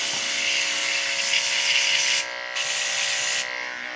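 Electric dog grooming clippers run in a steady, close, high-pitched buzz, with brief dips in the tone as the blade shifts against the dog's coat, and no voices over it.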